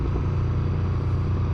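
Aprilia Tuono V4 Factory motorcycle riding through the Black Forest, a loud, steady engine drone with low rumble and wind noise throughout, no voices.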